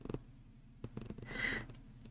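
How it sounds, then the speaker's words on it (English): A soft, faint cat purr rumbles close by in a quiet room where watercolour and gouache painting is underway, swelling briefly in the middle of the clip. "Can you hear the purrs?"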